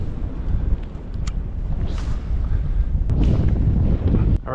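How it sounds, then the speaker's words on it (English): Strong wind buffets a microphone out on a lake during a fishing trip, a loud continuous roar with gusty surges and rumbling low end, no voices. "that wind is whipping"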